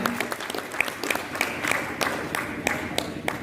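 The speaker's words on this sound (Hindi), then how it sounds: "जोरदार तालियों से इनका स्वागत करेंगे हम।" An audience at a private schools association annual function in Araria Town Hall applauds to welcome a guest, a steady wash of many hands with distinct sharper claps standing out, moderately distant in a large hall.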